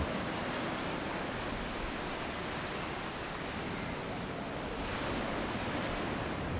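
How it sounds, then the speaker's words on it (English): Big surf breaking on a wild Sydney beach during a storm off Coogee Beach, a constant loud roar of waves and wind wash filling the whole stretch without any voices. "On the wild Sydney beaches, the surf can be huge."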